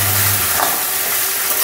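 Food sizzles steadily in a pan while being mixed, a dense close hiss with a faint scrape of stirring and no voices.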